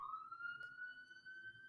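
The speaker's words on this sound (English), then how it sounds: "Sorry if you can hear a siren out there." A siren wails faintly in the distance, one long, slowly rising tone heard from indoors over a low background hum.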